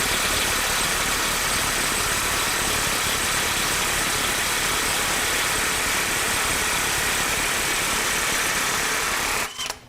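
A Ridgid mid-torque impact wrench in mode 1, set to 150 foot-pounds, hammering steadily at a bolt to break it free, a loud continuous buzzing rattle that runs the full length and cuts off abruptly at the end.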